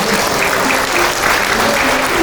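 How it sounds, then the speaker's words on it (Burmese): Guests at a traditional Rakhine wedding ceremony break into dense, sustained clapping that stays loud and even throughout, with faint murmuring underneath. "လက်ခုပ်တံများဖြင့်ရှင်းမြင့်ထောပနာပြုပေးကြပါရန်လေးစားစွာပန်ကြားရပါမယ်"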